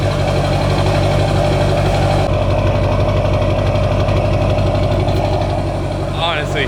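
A daily-driven car's engine idles after bed stacking, with a loud, steady, close low rumble and constant vibration, no talk.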